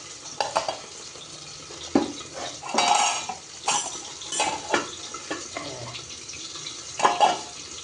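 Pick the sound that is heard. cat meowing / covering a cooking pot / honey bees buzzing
covering a cooking pot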